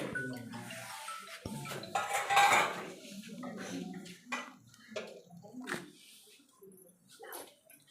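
Cooking pot set down with clattering dishes and cutlery at an outdoor millet food awareness event, sharp metallic knocks and rattles amid people talking and a dog whimpering.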